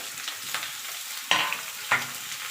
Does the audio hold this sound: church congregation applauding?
no